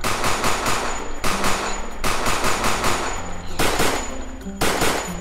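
A rapid-firing sniper rifle in Minecraft fires in quick bursts of sharp, loud shots, several clusters of rapid cracks separated by brief pauses, with no speech heard.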